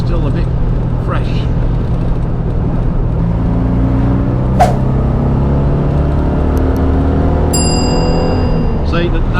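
Small engine of a Citroen 2CV (Dotty) droning steadily from inside the car while driving on the road, its hum rising in pitch as it speeds up, with faint clicks and a brief ding over the top.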